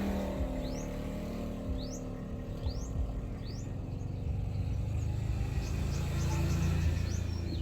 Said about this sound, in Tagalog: naghuhuni na naman yung mga ibon nandyan sa puno